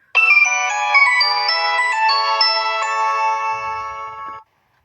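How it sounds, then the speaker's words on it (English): Default Nokia-style ringtone playing on a Citrus L05 keypad phone, a loud, bright melodic tune of clean synthesized tones running steadily for about four seconds, then cutting off abruptly, with no talking over it. "a Nokia tone as their default"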